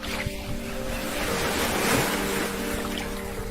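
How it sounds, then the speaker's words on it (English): Continuous rushing water like surf or a strong stream, a broad steady wash of noise with faint low hum underneath. "luring the animal near a large bowl using sounds of water"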